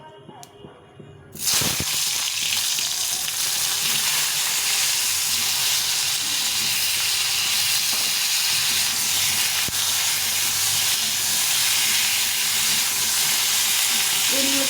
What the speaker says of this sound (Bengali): তেলটা গরম হয়ে গেছে এখন আমি বেগুনগুলো ভেজে নেবো